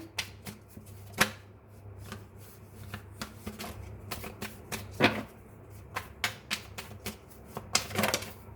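Tarot cards are shuffled and drawn from a deck at close range, producing a quick, irregular run of crisp snaps, slaps and flicks with short pauses between them.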